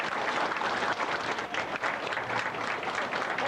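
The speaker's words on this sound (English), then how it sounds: "I think that deserves a round of applause," Audience at a Newfoundland Railway pensioners' reunion breaking into applause, a dense, steady patter of many hands clapping at moderate volume throughout.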